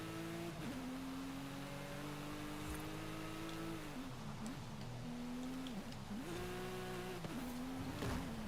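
A car engine revs in Forza Horizon 5 on PS5, rising and falling in pitch through repeated throttle swells and gear shifts, with faint tire noise beneath on a slippery wet track.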